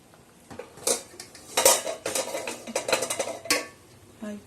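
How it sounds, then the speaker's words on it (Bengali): Par-cooked rice being spread in a layer into a pot for chicken biryani, with a series of clinks and scrapes of metal utensils and cookware, close and moderately loud, in irregular bursts. "3 ভাগের 1 ভাগ ভাতটা আমি এইভাবে ছড়িয়ে দিচ্ছি"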